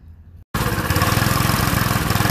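A small engine on an old, damaged bumper kart with a bent carburetor starts after a brief silence and runs steadily close by, chugging in a fast, even rhythm.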